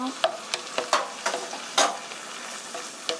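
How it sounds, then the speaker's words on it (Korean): Seasoned meat for tofu with meat sauce sizzling in a pan with repeated scraping stirs of a spatula, several quick strokes spaced irregularly, close and clear with no talking. "고기에 양념이 스며들 수 있도록 이렇게 볶아주세요."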